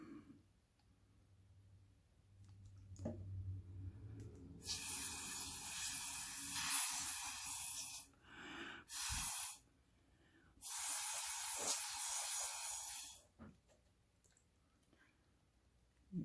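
Breath or air is blown across wet alcohol ink paint with added yellow and extra alcohol, giving loud hissing bursts in several long pushes separated by brief pauses.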